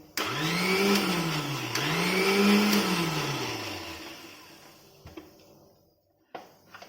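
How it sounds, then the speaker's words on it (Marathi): A mixer grinder running with water inside, rinsing out dosa batter, whirs loudly, its motor pitch rising and dipping twice, then winds down to quiet, followed by a couple of light clunks. "आता पाणी ओतते आणि एक मिक्सर फिरवून घेते"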